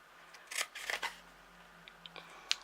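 A few short, crisp snips of scissors cutting card while making a mini pyramid box, heard as close, quiet bursts separated by pauses, with no voice present.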